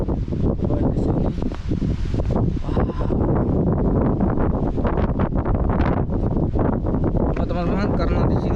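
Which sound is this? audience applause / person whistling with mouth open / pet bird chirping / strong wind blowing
strong wind blowing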